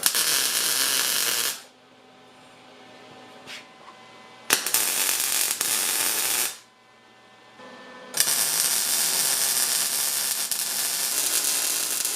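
Welding a square bar piece into a bandsaw stand as a stop for the lift wheel, three sustained bursts of crackling, hissing arc sound, loud and close, separated by short quiet pauses with faint clicks.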